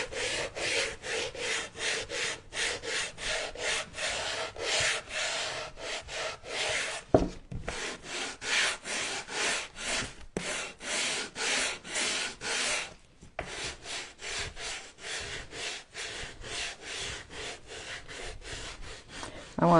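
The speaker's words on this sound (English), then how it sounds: "Let's sand this off." Long, rhythmic back-and-forth strokes of sandpaper scrub a painted wooden sign, loud and close, broken by a few short pauses between runs of rasping rubs.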